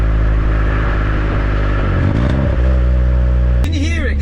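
A Citroen C1 with a loud aftermarket exhaust revs close by, its engine droning and rising before a few sharp pops crackle out, with a voice speaking over it.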